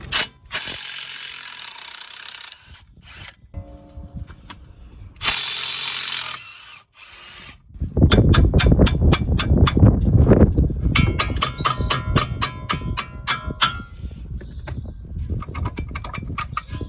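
A hand ratchet clicks rapidly and rhythmically while undoing the 21 mm strut bolt and nuts on a 2004 Renault Laguna 1.9 diesel, close up, after a few bursts of louder mechanical noise.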